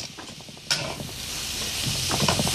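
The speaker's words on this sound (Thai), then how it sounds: "มันจะติดตะหลิวสักหน่อยนะคะเราก็จะผัดไปจนถั่วมันเละค่ะ" Mung bean paste, cooked down with a little water instead of oil for a sweet filling, is stirred in a pan with a spatula: a steady soft sizzle with scraping strokes and a sharper clack near the start.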